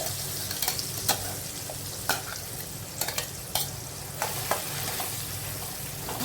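Pointed gourd pieces stir-fried in oil for a home-style parwal masala give a steady close sizzle, punctuated by sharp spatula clicks and scrapes against the pan at irregular intervals.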